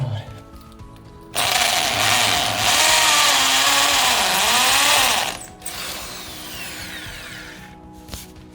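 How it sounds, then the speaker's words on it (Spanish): Electric drill boring into a wall with a 6 mm bit, a loud steady whine that starts abruptly, holds for about four seconds with slight pitch dips, then stops, followed by quieter handling noise. "Voy a usar una broca del número 6."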